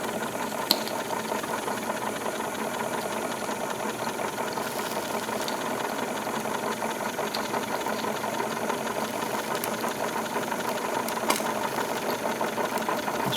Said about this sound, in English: It's running very nicely here.